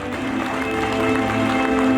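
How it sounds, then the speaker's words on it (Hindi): A crowd claps loudly and continuously at an award ceremony marking an institute's first anniversary. The applause swells slightly and runs under a steady tonal hum. "जोरदार तालियां होने चाहिए"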